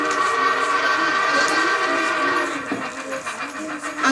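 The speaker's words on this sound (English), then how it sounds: "The Polar Express let out a loud blast from its whistle and sped away." The Polar Express train lets out a loud, sustained whistle blast over the rumble of the moving train, fading slightly toward the end as it pulls away.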